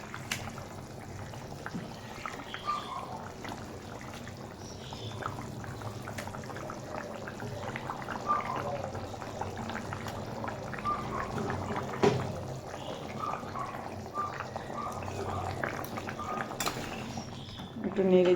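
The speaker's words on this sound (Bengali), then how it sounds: "ভেজে রাখা মাছের পিসগুলো এখন আমরা দিয়ে দেব ঝোলে।" Fried rohu fish pieces are lowered into a simmering curry gravy, giving faint, steady bubbling and soft splashes with occasional pot clinks, under a woman's quiet speech.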